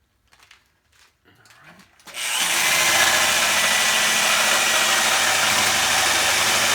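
A power saw makes a straight cut on a 1964 Ford Fairlane race car project, starting after a few quiet knocks and then roaring loudly and continuously for several seconds.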